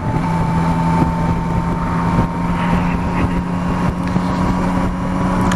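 Yamaha Tracer 9 GT motorcycle being ridden during its break-in, a steady engine drone with a tonal hum, mixed with heavy wind rush against the microphone, loud and continuous throughout.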